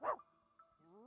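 A puppy in the video game Reverse: 1999 gives one short, sharp bark, followed by a soft, wavering whine, heard close and alone.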